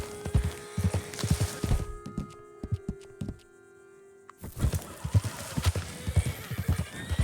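Horses in Red Dead Redemption 2 move with a rhythmic clip-clop of hooves, then the sound drops to a quiet hum for a moment before the hoofbeats return, with occasional whinny-like calls mixed in.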